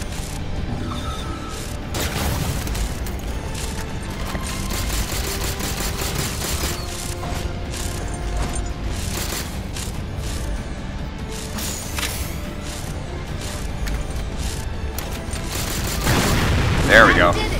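Dense Halo 4 campaign combat with continuous gunfire, booms and explosions layered over a loud game soundtrack, a voice talking over the action.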